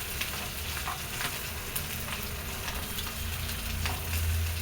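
Tilli sweets (sesame sweets) frying in a frying pan, a continuous close sizzle of hot oil with soft stirring scrapes, steady throughout with a low rumble swelling near the end.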